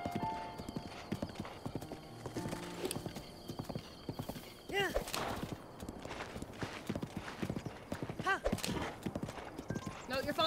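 Horse hooves clip-clop in the video game Breath of the Wild, a steady galloping rhythm of close, fairly loud hoofbeats with occasional whinnies, while a person talks over much of it.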